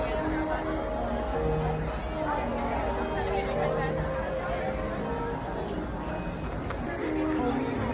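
Busy crowd chatter fills the Magic Kingdom monorail area at Walt Disney World, a constant babble of many voices with footsteps and bustle throughout.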